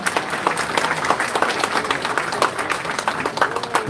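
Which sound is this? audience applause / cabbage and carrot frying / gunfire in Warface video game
audience applause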